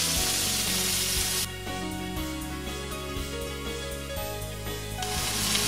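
Stuffed chicken breasts sear in melted butter in a cast iron skillet, giving a continuous crackling sizzle at moderate level, steady and uninterrupted with no voices.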